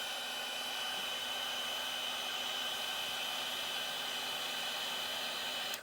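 A heat gun runs steadily on headlight parts for a 6.0 Powerstroke truck, giving a constant close, loud blowing hiss with a faint hum that holds for about six seconds before cutting off.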